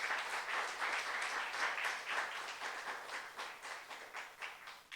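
Rhythmic clapping from a church youth congregation during a sermon, steady repeated hand claps in a quick regular beat, moderately distant and fairly quiet, continuing throughout.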